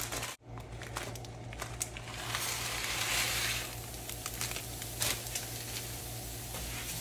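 Noodle pasta frying in hot oil gives off a steady, quiet sizzle with scattered small crackles and pops, close by and uninterrupted by talk.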